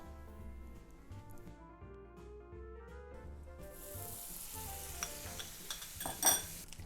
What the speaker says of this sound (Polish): Na naszą nagrzaną patelnię wędruje teraz masło.